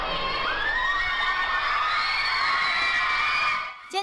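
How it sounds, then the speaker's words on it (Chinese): Dense, continuous high-pitched screaming and cheering from a mostly female crowd of fans packed into Taiwan Taoyuan Airport as a boy band arrives, loud and sustained throughout before cutting off near the end. "尖叫声不断，粉丝挤爆台湾桃园机场"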